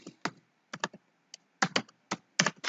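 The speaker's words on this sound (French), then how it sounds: "La secrétaire tape le mot de passe" A password tapped out on a computer keyboard by a secretary, a few crisp close key clicks in uneven bursts with brief pauses, quiet and alone.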